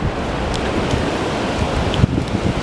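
Ocean waves wash steadily onto a beach where the first waves break, a continuous broad rush of surf with wind noise across the microphone and no voices.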